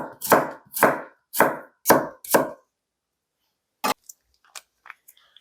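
Garlic cloves are sliced with a knife on a cutting board: five firm, evenly spaced chops, then a few sharper, fainter taps and clicks, close and clear with no talk.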